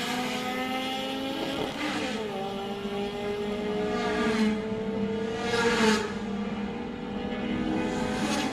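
Race car up to 1300 cc in a circuit racing event, its engine revving hard and climbing through the gears, with harmonics sweeping up and dropping at each shift, loud and continuous.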